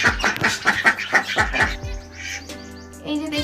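Caged finches, kept with a clay pot used as a nest, give rapid nasal chirps and honking calls in quick bursts at close range, then a few softer, sparser calls.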